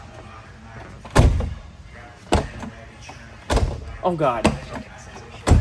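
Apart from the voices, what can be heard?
truck door being shut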